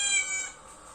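A single short, high meow from a cat, close and clear, fading out within about half a second, in a home with children and a talking lorikeet.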